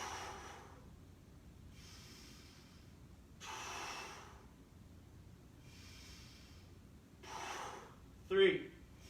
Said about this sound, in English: Ready, set, breathe in